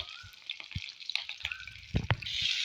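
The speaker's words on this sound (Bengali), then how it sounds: "এই তো তেলটা গরম হয়ে এসেছে। এখন আমি দিয়ে দেব এখানে কাঁচা লঙ্কা, দিয়ে দেবো একটু শুকনো লঙ্কা" Green and dry chillies drop into hot oil and crackle, with sparse pops and small spatters and a brief louder burst near the end, all fairly quiet and close.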